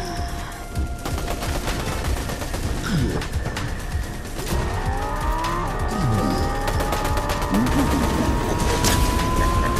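A car is driven in a Halloween video game event, with a steady engine roar, drawn-out tire squeals and skids, and rapid crackling bursts like gunfire layered throughout. Nobody speaks.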